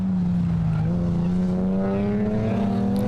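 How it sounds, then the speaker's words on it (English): Race cars at speed out of the kink on the back straight at Pukekohe Park, a sustained loud engine drone with rising pitch as they accelerate, steady and close. "Connell is the danger man at the moment, and there he is as they come out of the kink on the back straight at Pukekohe Park"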